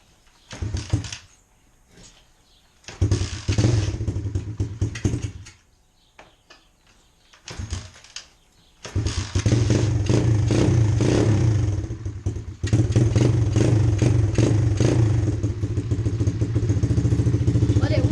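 Dirt bike being kick-started after a wash, several short bursts of engine clatter with quiet pauses between attempts before it catches and settles into a loud, steady, close idle with ticking mechanical chatter.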